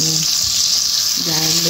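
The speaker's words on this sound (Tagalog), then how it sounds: "Lagay na natin ang ating garlic, minced garlic." Minced garlic dropped into a hot pan for squid adobo, giving a brief, close, steady frying sizzle with a faint bump of movement.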